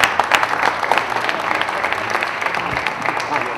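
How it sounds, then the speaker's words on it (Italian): Audience applause at the San Giuseppe family feast in Bivona, a dense steady patter of many hands clapping for Padre Marco, fairly loud and continuous with crowd murmur underneath. "Un applauso a Padre Marco"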